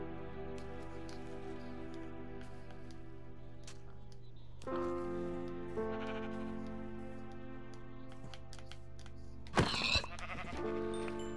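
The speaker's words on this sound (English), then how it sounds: "Where's that sheep?" A sheep bleats in the Minecraft video game, a few short separate bleats rising over quiet background game sound with music-like tones, with no talk.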